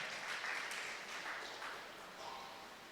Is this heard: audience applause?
yes